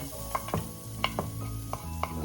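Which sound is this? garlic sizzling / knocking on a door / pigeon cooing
garlic sizzling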